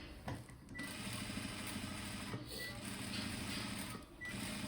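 A sewing machine stitches along the edge of a Madhubala-style blouse, running in a steady close-up whir with brief dips and restarts and no talking.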